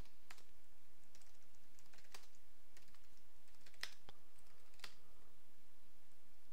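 Keys clatter on a computer keyboard in quick, irregular bursts of clicks, moderately close and alone over a soft steady hiss.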